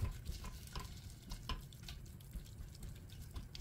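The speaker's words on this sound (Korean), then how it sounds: "아까 고기 양념에 마늘, 혼합장, 참기름까지 넣었어요. 이거를 이제 볶아줄게요" Seasoned meat with garlic, mixed sauce and sesame oil stir-frying over high heat in a pot, a soft steady sizzle broken by light scraping and stirring taps, quiet and close.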